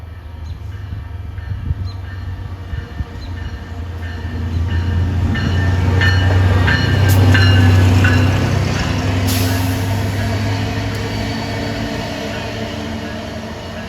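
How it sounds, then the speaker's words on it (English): An Amtrak maintenance of way train led by a GP15D locomotive with a 1,500 horsepower Caterpillar engine passes at a station, its diesel rumble swelling loud mid-pass with rail clatter and fading after. "This looks like an Amtrak maintenance of way train"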